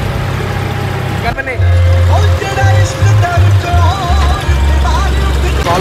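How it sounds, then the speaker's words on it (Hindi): A mill runs with a loud, steady low drone and rumbling machinery throughout, with a brief dip as it starts up, while a person talks over it. "मील चालू हो गई और ट्राली आ गई"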